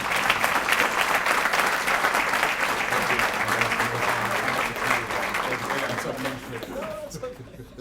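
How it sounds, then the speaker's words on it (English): A luncheon crowd at a chamber of commerce awards event applauds warmly and continuously, the clapping tapering toward the end as a voice begins to be heard. "Please join me in a round of applause"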